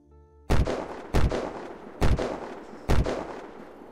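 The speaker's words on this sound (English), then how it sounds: "Okay, I can shoot them from here now." Four loud, sharp gunshots from Unturned gameplay, spaced about half a second to a second apart, each with a booming echoing tail and no talking between them.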